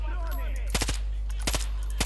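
Far Cry 5 video game gunfire crackles in a few quick bursts of shots over a steady low rumble, with faint voice-like tones early on.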